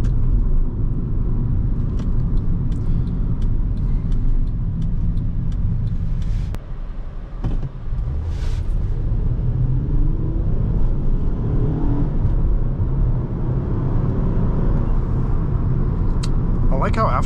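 Road noise and engine drone from a 2010 Honda Accord EX-L V6 under acceleration on a test drive: a steady, continuous low rumble fills the cabin throughout, with a brief dip midway before the engine note returns.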